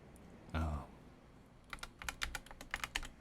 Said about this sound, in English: That's how my keyboard sounds.